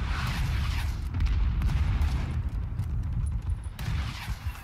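Gunfire in a first-person shooter, a dense run of booming shots and rumbling blasts that fills the whole stretch loudly, with a few sharper cracks near the end.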